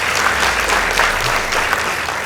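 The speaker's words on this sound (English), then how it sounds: "Let's give them a round of applause." Audience applause at a high school debate between Archbishop Njenga Girls and Kivaywa Boys, a steady, dense wash of clapping from a crowd throughout.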